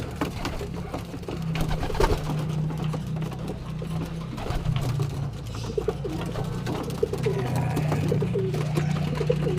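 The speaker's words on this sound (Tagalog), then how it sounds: "Sa ngayon, ito, nagpapatuka ako. Nasa loob ako ng kulungan. Ayan sila." Pigeons coo in low, repeated rolling calls inside their coop during feeding, close and continuous, with faint shuffling and pecking noises around them.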